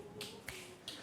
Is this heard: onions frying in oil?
no